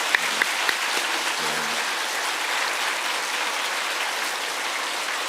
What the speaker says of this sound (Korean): 우리가 깊은 감사의 박수를 치겠습니다.